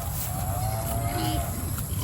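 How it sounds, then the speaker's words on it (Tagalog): A cow on a farm under coconut trees letting out a single long low moo, close and fairly loud over steady background noise, no talk. "Yan, baka."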